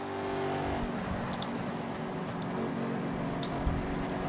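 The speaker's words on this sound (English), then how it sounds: "And that car does not sound happy." A damaged race car engine with rear damage, on a sim racing broadcast at Daytona, drones and revs unevenly with a rough, strained tone, steady and fairly loud throughout.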